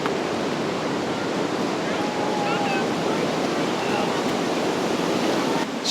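Tahquamenon Falls in Michigan roars as a steady broadband rush of water, close and loud, with constant wind buffeting on the microphone throughout.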